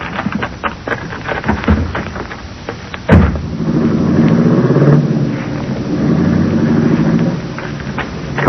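After a scuffle of footsteps and knocks, a car door slams shut, then a getaway car's engine rumbles loudly and steadily as it pulls off, filling the remainder without voices.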